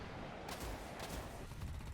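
Aircraft cannon fire in War Thunder during a jet dogfight against a MiG-21, heard as a steady, dense burst of rapid rattling shots that runs throughout, fairly faint and without talk.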